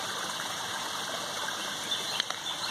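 Water flows steadily in a backyard pond on a rainy day, making a constant gushing hiss with a few faint splashes near the end and no voices.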